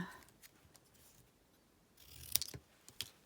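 Scissors snip through small card pieces, hand-trimmed for card making: a few faint cuts early on, then a louder cluster of crisp snips and rustles near the end, close by and with no talking.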